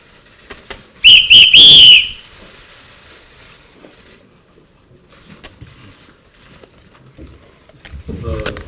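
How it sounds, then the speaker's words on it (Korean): A short, shrill whistle blast rings out in a few quick bursts as a warning at a political party meeting, loud and close, followed by quiet room noise and faint movement. "그래서 이 호루라기로 다시 한번 경고를 보냅니다"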